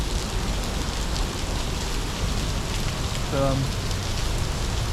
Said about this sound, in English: some of the drops come in too, so when they hit my arm, I get pretty wet